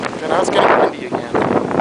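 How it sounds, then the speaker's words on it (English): Gusting wind during a heavy snowstorm, a broad, rushing roar that swells loudly, dips briefly, then surges again, buffeting the microphone in close, continuous blasts. "now it's getting windy again"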